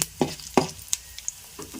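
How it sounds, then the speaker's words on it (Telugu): Mustard seeds sizzle in hot oil in a pan while a spoon stirs them for a coconut and ridge gourd chutney, with a few sharp scraping strokes and light clinks over a faint frying hiss. "చూసారుగా, ఆవాలు వేసాను. ఈ రకంగా చక్కగా తిప్పుకోవాలి."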